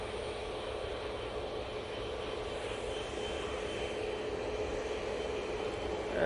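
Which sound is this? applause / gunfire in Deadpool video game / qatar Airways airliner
qatar Airways airliner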